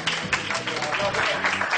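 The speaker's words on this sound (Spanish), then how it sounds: "Un aplauso" A group gives Ramiro a round of applause, steady close clapping mixed with voices that carry on under it for the whole moment.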